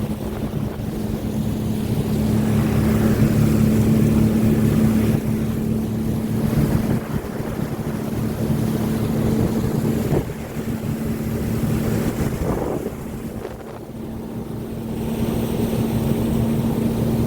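Wind blows steadily by a river, a broad rushing roar with gusts that swell and ease, a faint low hum underneath, loud and close to the microphone.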